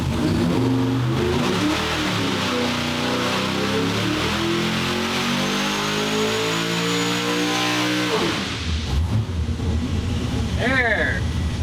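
Boosted Chevy V8 running on race gas during a dyno pull, revving in one long loud climb with rising harmonics and blower whine, then dropping off sharply near the end, close and dominant.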